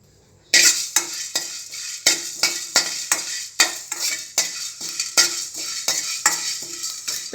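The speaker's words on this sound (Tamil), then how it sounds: "இப்போ கொஞ்சம் சீரகத்தூளும் பெப்பரையும் நான் வறுத்து எடுத்துக்க போகிறேன்." Cumin powder, pepper and curry leaves being roasted in a pan for varagu pepper rice, a spoon scraping and clinking against the pan in repeated strokes over a faint sizzle, close and alone.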